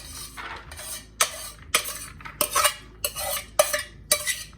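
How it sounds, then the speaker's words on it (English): Ingredients including brown rice being stirred in a big bowl for Mexican stuffed bell peppers: repeated scraping, sloshing strokes of a utensil against the bowl in an uneven rhythm with sharp clinks, close and fairly loud. "So I'm just gonna get everything into a big bowl here for mixing."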